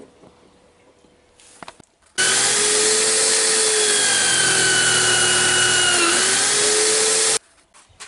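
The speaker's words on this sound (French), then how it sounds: "Donc avec un tour à polir, on a poli la lame, pour que ça l'aiguise." A polishing wheel runs against a homemade knife blade, giving a loud, steady whirring grind for about five seconds that shifts slightly in pitch as the blade is worked, with quieter shop noise before and after.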